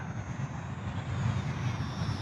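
An FMS PA-18 Super Cub micro RC plane flies past fast, its small propeller motor humming steadily and swelling slightly as it nears, with no talk over it.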